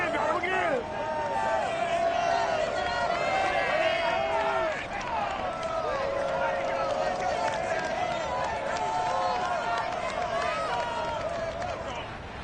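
Stadium crowd roars and cheers steadily throughout a Thursday night Browns versus Bengals game at Paul Brown Stadium in Cincinnati, in an EA Sports NFL video game, a dense, loud, continuous wall of voices with whistles and shouts.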